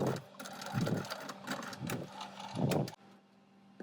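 A sewing machine bastes strap ends onto the top of a fabric Halloween trick-or-treat basket. It stitches in short mechanical bursts separated by brief pauses, close by and moderately loud.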